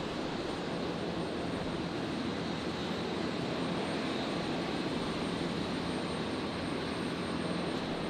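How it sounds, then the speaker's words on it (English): An Airbus A321neo jet rolls and takes off for Auckland, a steady broadband engine roar that holds loud and unbroken from start to finish, with no speech. "Just about to rotate. The second 321 Neo. Heading to Auckland."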